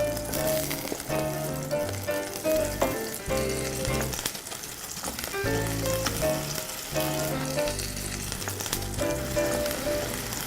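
Butter, honey and apple frying in a pan, giving a steady crackling sizzle close by, while quiet music plays underneath.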